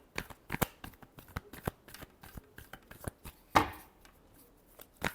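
Tarot cards are shuffled by hand, with rapid, close riffling snaps and soft papery flicks in an uneven rhythm and one louder riffle burst midway.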